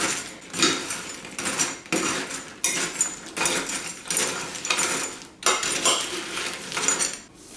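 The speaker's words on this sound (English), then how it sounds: "take a spoon and just try to mix that down in all the pretzels" A spoon stirs ranch seasoning through pretzel pieces in a bowl, making repeated scraping, rattling rustles in rhythmic strokes about every second, close and clear with no talk.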